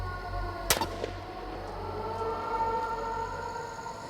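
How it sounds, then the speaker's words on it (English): A single sharp gunshot rings out in palace grounds at night, a loud crack followed by a short echoing tail against a low background rumble. "Gunfire is a sound that no one takes any notice of anymore."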